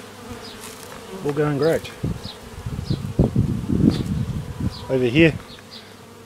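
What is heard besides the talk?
bees buzzing around backyard beehives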